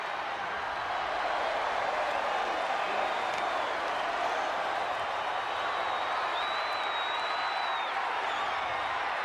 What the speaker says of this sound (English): this crowd is buzzing over that